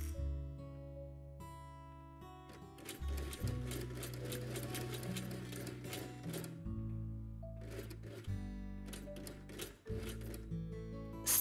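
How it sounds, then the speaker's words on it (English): Sewing machine stitching along the fabric edges of a quiet book page, its motor whirring in steady runs that stop and restart several times, close and fairly soft. "Sew to the corner"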